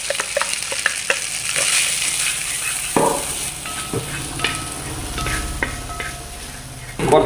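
Food sizzles steadily in a hot pan while a utensil stirs and scrapes it in repeated clinks, close and fairly loud, with a louder scrape right at the end.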